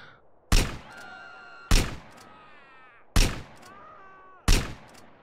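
A rifle fires in GTA San Andreas: four loud, separate booming shots about a second apart. Each one is followed by a brief in-game tonal effect, and no one speaks.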